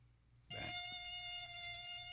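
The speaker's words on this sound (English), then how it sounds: "So the sound of a mosquito" A mosquito buzzes in flight, a thin high-pitched whine with strong harmonics that starts abruptly and holds steady and loud up close, alone without voices.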